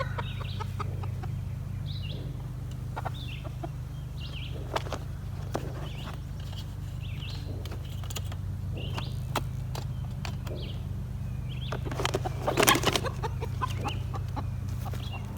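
A hen confined in a small pet taxi clucks softly and intermittently, close by, with occasional scratching and shuffling movements and a brief louder rustle near the end.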